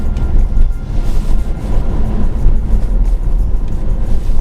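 A 2-litre four-cylinder BMW Z4 engine drones steadily from inside the car, a loud low rumble with road and wind noise that holds without a break.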